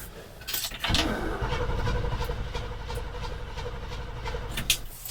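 A 1971 GMC truck engine with carburetor trouble cranks briefly, then catches and settles into a rough, rumbling idle, close and moderately loud, with a clunk near the end.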